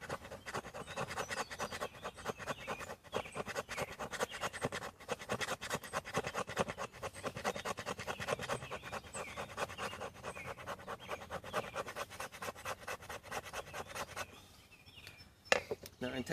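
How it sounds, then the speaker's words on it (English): A knife scrapes wet wood into shavings in a fast rhythmic rasping that repeats steadily, close and fairly quiet, continuing throughout with only a brief pause near the end. "rubbing it and keep rubbing it and just file it down with my knife"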